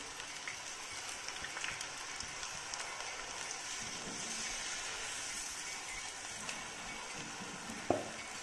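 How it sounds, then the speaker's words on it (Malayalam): Onion rings frying in hot oil, a steady faint hiss and crackle of sizzling throughout with one small clink near the end, no talking. "എന്നിട്ട് അതിനെ ഒനിയൻ റിങ്സ് ആയിട്ട് വറുത്തെടുക്കാമെന്ന് വിചാരിച്ചു"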